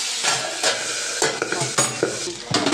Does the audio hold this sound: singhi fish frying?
yes